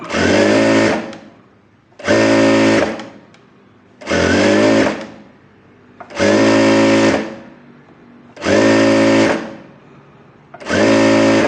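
A tailor's sewing machine stitches a folded single hem on a buff sleeve in six loud, steady bursts of motor whirr and needle chatter, each about a second long and separated by short pauses, close and alone.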